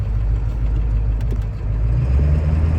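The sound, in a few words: car automatic transmission shifting gears while driving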